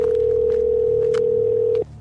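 An outgoing phone call's ringing tone sounds as a loud, steady, unbroken electronic hum, then cuts off abruptly just before the end.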